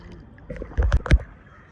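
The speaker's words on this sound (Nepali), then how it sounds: "आफैले चलाएर डुङ्गा चलाएर ल जाउँ" Kayak paddles dip and splash in lake water, a few quick gurgling strokes close by, with some low murmuring in the background.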